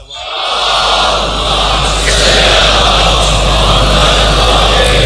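A large crowd loudly reciting salawat in unison at a religious gathering, a dense roaring wall of voices that swells in and holds steady.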